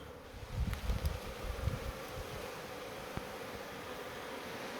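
A honeybee colony nesting in the hollow of a jackfruit tree makes a steady, close insect buzz that swells loudly early on, then settles into a softer continuous hum.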